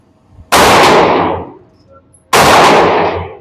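Two loud, sharp gunshots from a Sig Sauer P365XL pistol, about two seconds apart, each a broadband crack with a short decaying ring, fired outdoors at targets.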